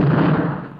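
A single heavy cannon blast in a western setting, a loud booming burst that rolls off into a fading rumble.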